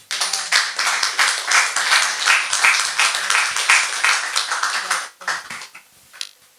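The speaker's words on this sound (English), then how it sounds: "you should all get a big round of applause" Audience at an artists' talk in New York applauds loudly and steadily for about five seconds, then the clapping thins out into a few scattered claps.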